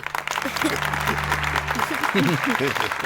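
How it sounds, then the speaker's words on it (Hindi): Schoolchildren in a classroom clap for their school's rising enrolment, a broad patter of small hands over a low steady hum, with voices taking over toward the end. "बजाओ ताली"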